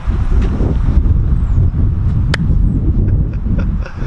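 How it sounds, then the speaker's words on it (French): Heavy wind buffets the microphone, a steady low rumbling roar with gusty fluctuations throughout, loud and close. "C'est quoi ce vent, bordel?"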